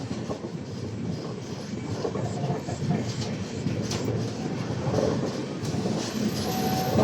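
The Azad Hind Superfast, an LHB-coach train from Pune to Howrah, rolls out and takes a curve, giving a continuous loud rumble of wheels and rail noise with faint clickety-clack and a thin squeal near the end.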